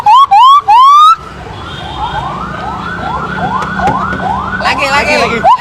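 A child vocally imitates a police car siren, a few sharp rising whoops up front, then a long series of repeated rising-falling wails over street background noise, loud and close.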